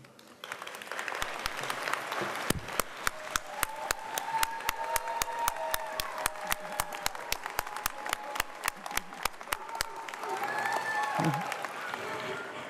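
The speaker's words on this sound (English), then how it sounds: "please give a standing ovation to family and friends" Sustained applause from a commencement audience of family and friends, with dense steady clapping and a few sharp close claps through the whole stretch, under general crowd murmur.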